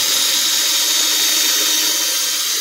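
Power drill drives a screw into wood for a raised garden bed, a loud continuous motor whine held close and steady without pause.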